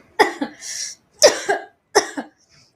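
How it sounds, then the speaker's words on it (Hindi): Three separate coughs in quick succession, close and fairly loud, the first followed by a short raspy exhale, with a brief quiet gap between each. "एक तो एक खांसी यार"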